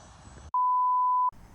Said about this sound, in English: my timer just ran out